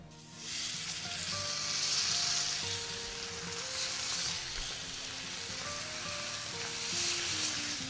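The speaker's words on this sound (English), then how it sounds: "Now we're going to place the steaks in mustard side down." Mustard-coated steaks sizzle steadily in a smoking, olive-oiled pan, a loud continuous crackling hiss broken by soft pops, with faint tonal clinks and hum from the kitchen beneath.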